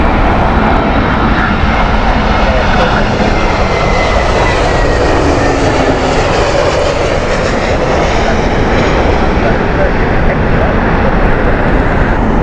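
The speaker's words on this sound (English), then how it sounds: "Istanbul flights, Turkish Airlines A321 Neo." Turkish Airlines A321neo jet airliner at Heathrow in heavy winds, a loud, close, continuous engine roar with a broad rushing wash and a slight rise and fall in pitch.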